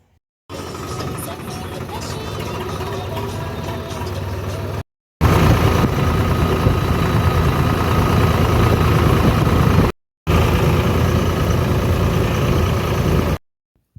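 A tractor engine runs loud and steady in three sections separated by brief silences, its low rumble constant with no speech heard.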